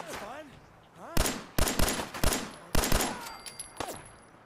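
Pistol shots ring out in Fallout 4, a rapid string of sharp, loud reports in quick bursts, with a voice heard briefly at the start before the firing.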